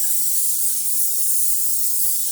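A steady, close hiss of aerosol cooking spray coating a low baking pan runs continuously for a couple of seconds.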